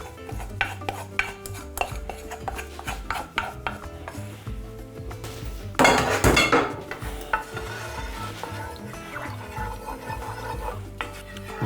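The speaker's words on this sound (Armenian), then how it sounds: "կրակին ենք դնում մեծ տապակը, լցնում ենք նախապատրաստած սոուսը" A large frying pan is set on a stove and sauce is poured in, heard as scattered metallic clinks, scraping and stirring, followed by a louder burst of sizzling and pouring midway that settles back into quieter kitchen clatter.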